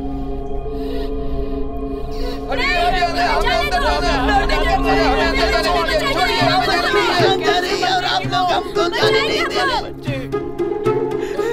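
Agitated crowd of many overlapping voices in a hospital, a loud, dense, urgent babble that swells after a quieter opening and continues under one another before dropping near the end.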